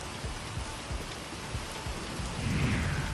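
Heavy rain with a thunderstorm and strong winds pours steadily in Pune, a dense continuous hiss of water on surfaces, with a low rumble of thunder rising near the end and no voices.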